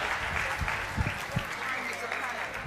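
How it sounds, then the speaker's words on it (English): Audience applause at a talk on making homemade hair products, a steady burst of clapping from the crowd lasting the whole moment, fairly close and continuous. "A big round of applause for Sherilyn Dos Santos from Pure Goodness London."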